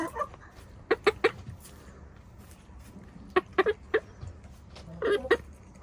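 Several white hens cluck in short bursts as feed is tossed to them, with clusters of sharp calls at the start, middle and end over a quiet farmyard background.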